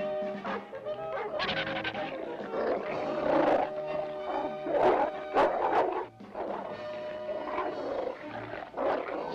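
A cartoon dog from the 1981 Smurfs episode yelps and barks in short excited bursts, mixed with a roaring animal voice and a busy music-like backdrop; no speech is clearly heard.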